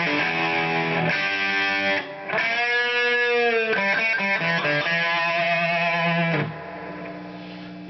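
Electric guitar lead lines played through a Marshall JCM 212 combo amplifier, distorted sustained notes and bends with slight echo, loud and alone.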